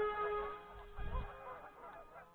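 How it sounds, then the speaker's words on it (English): Canada geese honking at a public radio-control flying field, a few short nasal honks at moderate distance over a steady background hum. "I don't think the geese really like me."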